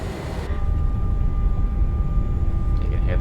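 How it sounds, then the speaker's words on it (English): Flaps retracting on an Embraer E190 in Microsoft Flight Simulator 2024, a steady low mechanical whir under engine and cockpit drone, with a faint voice talking over it. "You can hear the flaps coming up."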